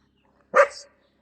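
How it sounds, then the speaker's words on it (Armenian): A single short dog bark, sharp and close, in an otherwise quiet moment. "Գնա կեր, անիմաստ հաչում ես"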